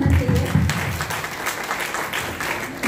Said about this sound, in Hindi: इनके लिए तो जोरदार तालियां होना चाहिए